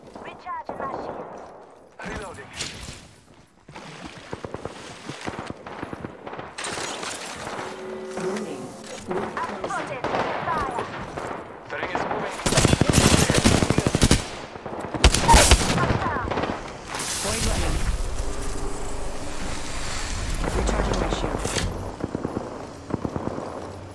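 Gunfire in a PS4 shooter game, with bursts of rapid shots and sharp loud volleys scattered across the span, some close and some distant, under occasional voice chat.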